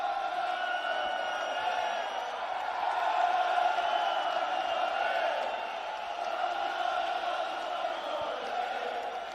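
A large rally crowd in London cheers and shouts, forming a continuous roaring wash of many voices with no distinct speech standing out.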